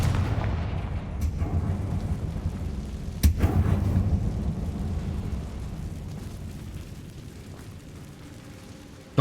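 An explosive Confringo spell blast in the Hogwarts Legacy video game opens with a loud booming burst that rumbles away. A second sharp crack follows midway, then a long fading low roar, with no talk.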